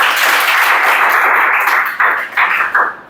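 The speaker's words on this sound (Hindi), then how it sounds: "चलो ताली बजाओ, सही है।" Classroom applause in a coaching class, a dense wash of many hands clapping that holds steady, then thins into a few separate bursts before fading out.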